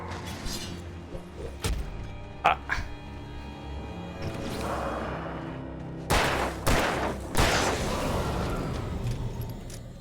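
Gunshots in the video game Alan Wake, several sharp cracks spread through the clip with a clustered burst near the end, over a droning low game ambience.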